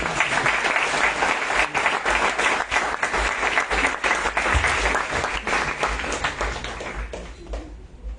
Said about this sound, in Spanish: Démosle un fuerte aplauso también al doctor Federico